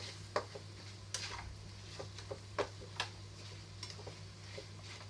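A spoon scrapes and clinks against a pan while stirring a chicken dish, chicken cooked with sarsa sauce, giving an irregular run of close taps and scrapes over a steady low hum.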